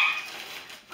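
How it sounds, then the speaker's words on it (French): Dogs playing indoors at home, giving short yips and excited whimpering barks, close and moderately loud in a brief burst. "c'est les chiens qui jouent."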